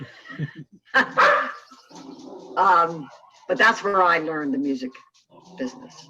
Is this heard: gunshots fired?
no